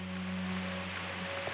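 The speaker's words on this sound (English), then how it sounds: "It is a bit mind-boggling that you can have this much rain for so long, it just keeps coming." Torrential rain pouring down on a Pacific island, a dense steady hiss of heavy rainfall with a low constant hum beneath it, unbroken for the whole short stretch.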